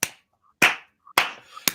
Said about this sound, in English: Everybody clap at home.